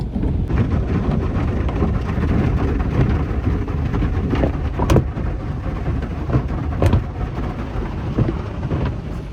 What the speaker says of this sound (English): I'm in the car wash now.